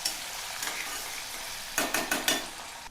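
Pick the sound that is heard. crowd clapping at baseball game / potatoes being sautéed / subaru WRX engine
potatoes being sautéed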